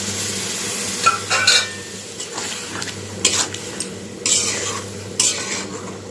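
Fried spice paste for a Bengali prawn bhuna with pumpkin and potato sizzles in a pan while a spatula stirs and scrapes in repeated close strokes, with a few louder clatters and no talking.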